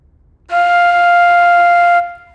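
A flute sustains a single F as a whole note, starting cleanly and holding steady and clear for about a second and a half before stopping, close and alone.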